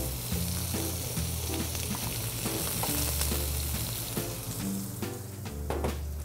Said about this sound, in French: On veut saisir les légumes comme il faut